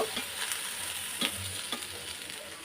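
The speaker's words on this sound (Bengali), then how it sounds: "টমেটোগুলোও আমি দিয়ে দিচ্ছি কিছু পেঁয়াজের কলি ছিল ওগুলিও দিয়ে দিচ্ছি আর এক মিনিট নেড়ে ফেলে বেজে নিব" Tomatoes and onion stalks stir-frying in a pan for an egg and potato vegetable biryani, with a soft, steady sizzle and a few spatula taps and scrapes, close and fairly quiet, without speech.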